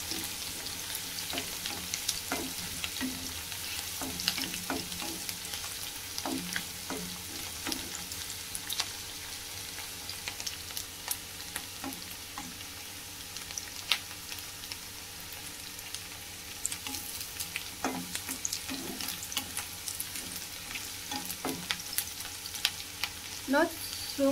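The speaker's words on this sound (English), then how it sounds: "now I have put onion, garlic, chili at the same time. So we have to stir it nicely" Onion, garlic and chili frying together in a pan with an even, soft sizzle throughout, broken by frequent light scrapes and taps of the stirring spoon, close but fairly quiet, with no voices.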